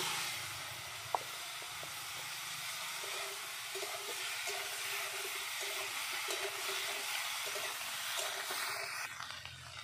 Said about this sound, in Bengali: আমি ওই তেলে ফুলকপিগুলো ভেজে নেব।